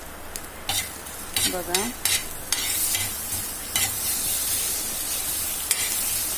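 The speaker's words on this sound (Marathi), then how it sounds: "त्याला छान शिजवून घेऊया भुर्जीला।" Egg bhurji sizzles in an iron tava while a spatula stirs it in repeated scraping strokes over a steady frying hiss; a single brief word is spoken.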